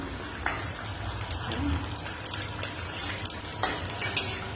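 Oil sizzles and crackles steadily as food fries, with stirring and occasional clinks of a metal utensil against the pan.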